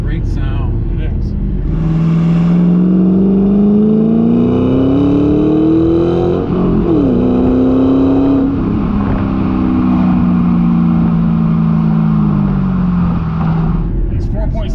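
A 2008 Ford Mustang Shelby GT with a 4.6-liter V8 pulls hard under acceleration, its engine note climbing through the revs, dropping at a gear change, then rising again before easing off, loud inside the cabin while someone talks over it.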